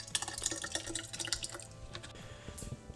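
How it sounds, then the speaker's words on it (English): Water trickles and splashes into a quart mason jar holding harvested cucumber seeds, a quiet, close run of irregular drips and pours lasting a few seconds. "we'll just add a little bit of water in there"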